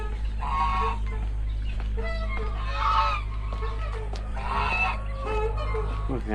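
A duck with Spider-Man-like eye markings in a park gives three loud, evenly spaced honking calls over a steady low hum.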